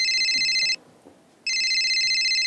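A mobile phone ringtone trills loudly in two bursts separated by a short pause, with only faint background noise between rings.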